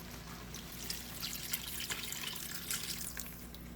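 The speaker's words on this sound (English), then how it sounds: "I'm going to go right in after with my beautiful homemade bone broth that I made from beef bones." Homemade beef bone broth poured into a pan, a continuous liquid trickle and splash with dripping accents running steadily throughout, close and with no speech.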